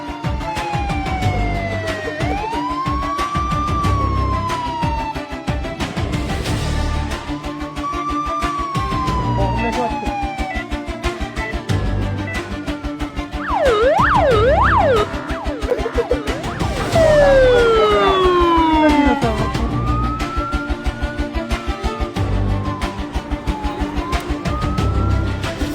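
An emergency siren on an ambulance moving through congested road traffic wails loudly and close, with long rising and falling sweeps that switch to faster yelps midway, over the hum of traffic.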